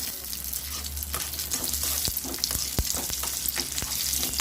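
Raisins frying in hot ghee for boondi laddu, a steady close sizzle broken by sharp clacks of a spoon stirring through the pan.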